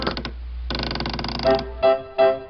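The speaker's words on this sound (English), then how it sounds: "Doors, creak." A door creaks in a drawn-out, grinding groan, followed by a couple of short, sharper creaks.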